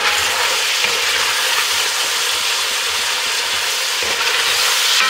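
Bacon sizzles and crackles loudly in a hot pot on high heat, with onion pieces added, while a utensil scrapes and stirs across the pot bottom in a steady, continuous wash of frying noise.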